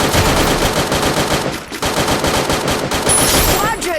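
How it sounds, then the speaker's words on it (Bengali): Dense automatic gunfire from a battle royale video game, loud and continuous with rapid bursts, a brief lull near the middle, then more sustained firing. "আর পিছন থেকে আমার কে জানি কাভার ফায়ার দিচ্ছে"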